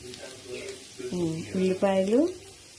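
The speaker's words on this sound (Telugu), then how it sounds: "ఈ జింజర్ పీసెస్ వేసి ఫ్రై చేయాలి" Ginger pieces sizzle in hot oil for a brinjal fry, a soft steady hiss sitting low beneath a person's voice that talks over most of the moment.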